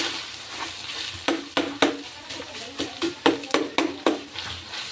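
Ground meat for giniling browns in a pan, repeated spatula scrapes and knocks against the pan in an uneven rhythm over a steady frying sizzle, close and clear.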